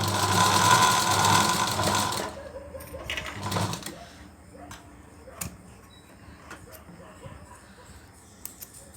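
A sewing machine runs steadily for about two seconds as it stitches fabric piping, then gives a few short bursts and scattered clicks, fairly close by.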